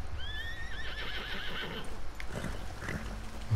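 A horse in Red Dead Redemption 2 lets out a loud, close whinny, followed by hoof clip-clops and rustling movement.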